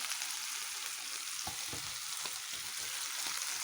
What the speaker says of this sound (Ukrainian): Печіночку смажимо і перевертаємо, щоб вона вже хоч сторінки підсмажилася.